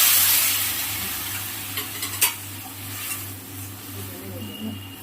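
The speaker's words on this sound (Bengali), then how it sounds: "নেড়ে চেড়ে একটু জল দিয়ে দিলাম।" A spoon stirs taro stolons and shrimp curry in a pan, with a steady sizzle of frying and a few clinks against the metal, close up and with no talking.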